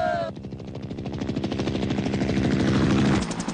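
Military helicopter in a battle scene from an Iranian film, a loud, fast, rhythmic rotor thump with a dense engine roar, steady and close for several seconds.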